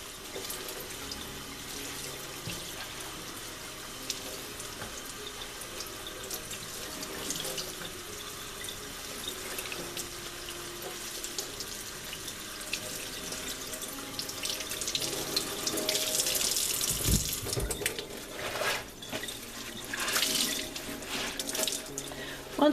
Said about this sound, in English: going to rinse the weaver's cloth until the water runs clear